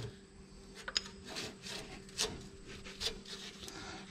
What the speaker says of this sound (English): As you can see, got my gasket scraper. I'm poking in there.